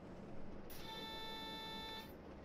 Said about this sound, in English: and having another alarm